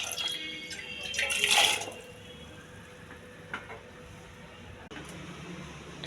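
A little water poured into a pressure cooker over dal, tomatoes and spices, a short splashing burst near the start followed by faint drips and quiet kitchen noise.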